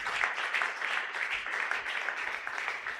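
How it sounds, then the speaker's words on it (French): A church congregation applauds during a Sunday worship service of praise and thanksgiving, with a steady, dense wash of clapping that holds evenly throughout. "Acclamons encore pour la gloire de notre Seigneur."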